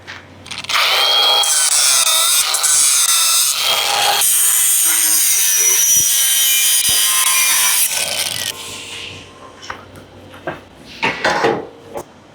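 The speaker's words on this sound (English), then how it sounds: "We're gonna do some more trimming." Loud power-tool cutting trims a Summit Racing frame brace on a classic car chassis, a steady high-pitched grinding whine for about eight seconds, then dying away into scattered clanks and taps of metal handling.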